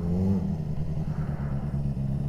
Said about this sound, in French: j'entends le bruit de la moto dans ton casque